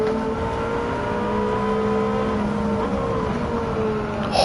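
A Ferrari F8 in Gran Turismo 7 drives with a steady engine drone that holds level throughout, its pitch rising gradually before a brief louder burst at the very end.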